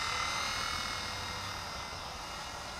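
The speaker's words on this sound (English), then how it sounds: "that's the only downside of this helicopter, is the fact that it is so easy to fly" A small Eachine E130 RC helicopter hovers nearby outdoors with a steady, high buzzing whir from its rotors that stays fairly loud throughout, with no talking.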